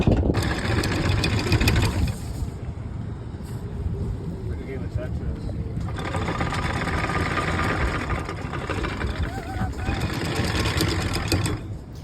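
Anchor windlass on a sailing yacht cranking in the anchor rode, a steady mechanical motor drone with a rattling, knocking texture that runs continuously and surges in two stretches, without voices.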